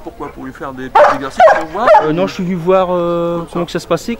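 A Beauceron herding dog at a French championship show gives a few short yips and whines amid people talking in French, the dog sounds brief and mixed into the conversation.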